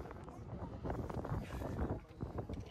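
Strong wind buffeting a microphone atop a tall tower in Sri Lanka, a continuous rough roar with gusting swells and no clear pauses.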